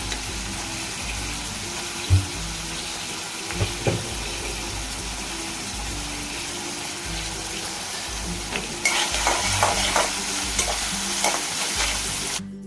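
Cumin and mustard seeds frying in a pan with onion and tomato for dal khichdi, a steady sizzle with occasional stirring scrapes that grows louder and brighter toward the end.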